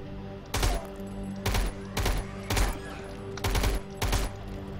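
Assault rifle fire in the StarForge video game, six short automatic bursts at a steady rhythm, loud and close over a constant low mechanical hum.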